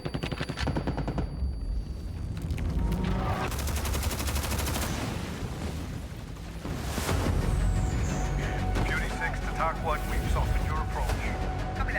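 Sustained bursts of gunfire from the Star Citizen space game ring out loud and near, with rapid repeated shots and heavier booms over about twelve seconds, while voices talk underneath.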